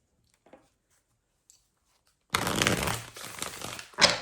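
Oracle cards being shuffled by hand after a near-silent pause with a few faint taps, giving a close, dense riffling rustle that lasts about two seconds and ends with a sharper snap.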